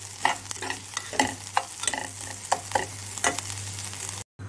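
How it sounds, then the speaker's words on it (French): Puréed anchovies and breadcrumbs fry in a hot pan over high heat, giving a soft continuous sizzle broken by repeated scraping stirs, close and fairly quiet, with a brief dropout near the end. "Je laisse griller une minute sur feu vif."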